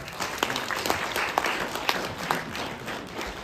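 An audience claps at a stage event in Bhopal, a dense burst of applause with distinct sharp claps standing out, moderately close and sustained for a few seconds, then thinning slightly toward the end.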